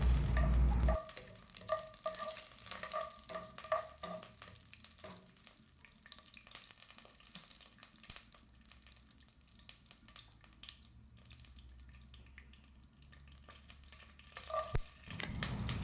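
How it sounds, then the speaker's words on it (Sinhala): Mustard seeds crackle and pop in hot oil along with cardamom, curry leaves and a piece of cinnamon bark, over a steady close sizzle with stirring. Early pops give way to a softer, continuous frying hiss. "අබෑට ටික මේ විදිහට පිපිරීගෙන එනකොට මම ඒකට එනසල්, කරාඹු නැටි, කුරුඳු පොතු කෑල්ලත් එකතු කරනවා."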